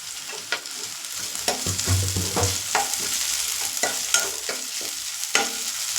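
Onions fry and sizzle in a pan for chicken varuval, a steady close hiss broken by stirring scrapes and clinks of a spoon, with no talking.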